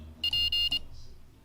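Short electronic Morse code tones, a quick run of clipped high beeps with brief gaps lasting well under a second, then quiet.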